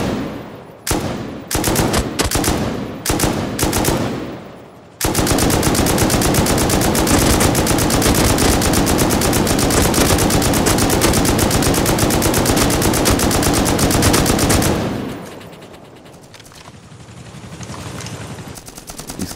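Automatic gunfire in the video game Rust, loud and close: a few separate bursts, then about ten seconds of sustained rapid fire that cuts off into quieter background game noise.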